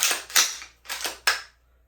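A rifle bolt being worked against a chamber flag so it cannot close fully, heard as two pairs of sharp close metallic clacks in quick succession, loud and isolated with no talking.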